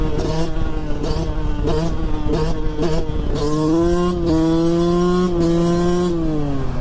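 Motorcycle engine revving up close: several short sharp throttle blips, then longer rising accelerations with the pitch climbing and falling, loud and dominant.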